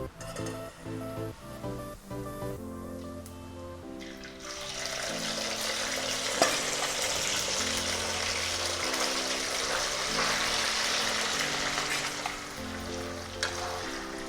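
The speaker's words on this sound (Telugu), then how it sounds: "మనం ఇప్పుడు నూనెలో చికెన్ అంతా ఒకేసారి వేసేసి మనం ఫ్రై చేసేద్దాం." Chicken pieces dropped into hot groundnut oil in a kadai, after a few seconds of music a steady loud hiss and crackle of frying rises and continues evenly with music still playing underneath.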